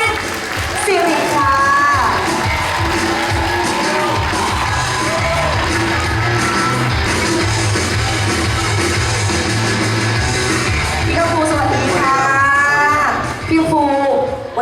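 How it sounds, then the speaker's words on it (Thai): A crowd at a Thai film premiere for the movie Rider applauds loudly, with cheers, whoops and shouts rising above the clapping. It sounds close and full throughout, with voices calling out near the end. "ขอเสียงปรบมือดังๆ"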